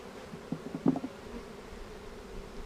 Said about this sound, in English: The rest of the bees, they head on back to the hive location.